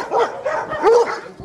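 Several dogs bark near and loud at an animal shelter housing some three thousand dogs, with overlapping barks and yips in quick bursts.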